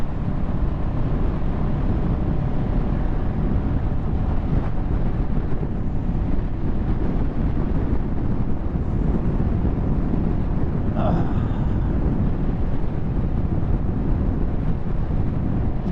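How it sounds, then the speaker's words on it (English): Heavy wind roar buffets the microphone while riding a 2023 CFMoto 700CL-X Sport motorcycle, a loud, constant rushing blast over a faint engine underneath. "This bike rides really smooth."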